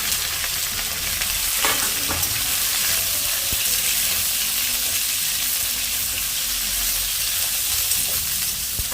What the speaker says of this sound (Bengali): আলুটা একটু ভালো করে ভাজা হয়ে গেল, এখন আমি বেগুন ঢাললাম।